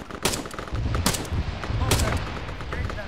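Gunfire sounds in the video game Arma 3, distant rattling bursts and single shots cracking irregularly. Voices talk faintly underneath.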